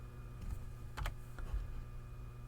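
A handful of soft key clicks from someone typing on a computer keyboard while drafting a bracket design, sparse and quiet over a low steady hum.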